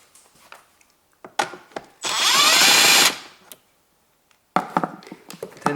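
A power tool drives out bolts on the wiper arms of a BMW 3 Series. There is one loud whirring burst of about a second, with scattered clicks and handling knocks before and after.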